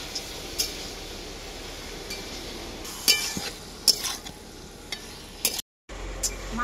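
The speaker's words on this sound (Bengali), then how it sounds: "মাংসটাকে এরপর আমি খুব ভালো করে কষিয়ে নেব।" Desi rooster chicken pieces being fried down in a pan with kohlrabi, a low steady sizzle under intermittent scraping and clinking stirs, with a brief cut to silence near the end.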